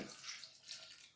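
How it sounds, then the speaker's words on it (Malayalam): Water poured into a cooker holding split jackfruit seeds with a little salt and turmeric, a soft, steady splashing hiss lasting about a second, fairly faint and with no voices. "അല്പം വെള്ളം ഒഴിച്ച്"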